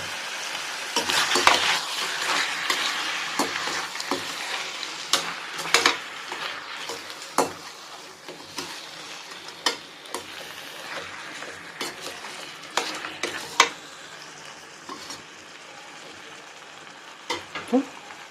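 Pepper chicken frying in a pan, with a steady broadband sizzle and frequent sharp scrapes and clinks of a utensil stirring against the metal, sounding close and continuous without speech.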